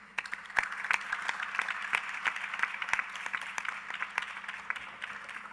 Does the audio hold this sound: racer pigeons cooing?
no